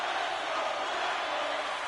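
A hockey arena crowd during a tied game between the Senators and Columbus gives off a steady, distant roar of murmuring and cheering, with no single voice standing out.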